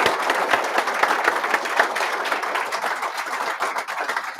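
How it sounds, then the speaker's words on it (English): An audience at a Cherry County GOP candidate forum claps steadily for several seconds, a moderate wash of hand claps at middle distance with no talk over it. "I think we owe them a round of applause."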